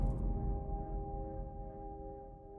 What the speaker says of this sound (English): This is the sound of acquiring your artifact.